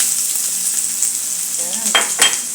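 Garlic and onion hit a hot pan and sizzle steadily, with a couple of louder bursts of crackling and stirring near the end.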